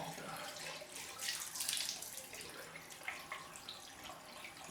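A bathroom tap running for a cold rinse after a straight-razor shave, a steady close hiss of flowing water into a sink with small splashy surges of hand rinsing, fairly quiet and without talk.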